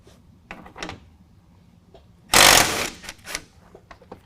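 A 13 mm socket wrench loosens the bolts on the factory rear bumper of a 2019 GMC Sierra 1500 pickup: one loud, close rattling burst lasting about half a second, with faint scattered clicks and knocks before and after.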